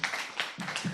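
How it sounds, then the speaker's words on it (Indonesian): A church congregation clapping together for a moment in a service, a short burst of scattered handclaps and taps in a reverberant room, fairly faint. "Beri tepuk tangan buat Tuhan Yesus."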